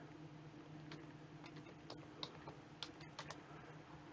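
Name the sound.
typing on a computer keyboard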